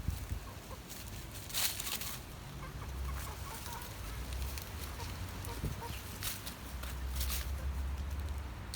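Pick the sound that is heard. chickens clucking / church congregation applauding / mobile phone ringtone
chickens clucking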